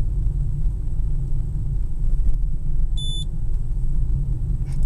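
A single short, high electronic warning beep rings out briefly over a steady low rumble inside an electric Citroën Berlingo.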